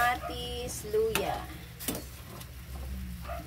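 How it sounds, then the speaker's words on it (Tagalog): Tomatoes and ginger simmer in a pot on the stove, a soft bubbling sizzle with a few sharp scrapes and clinks of a spoon stirring, close and moderately quiet. "Yan, kumukulo na ang ating kamatis, luya."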